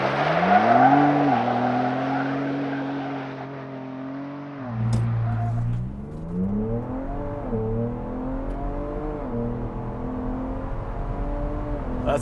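A 2022 Ford Bronco Raptor with a 3-liter V6 accelerating from a launch without launch control, its engine note climbing through gears with shift dips, loud and close, then settling into a steady drone.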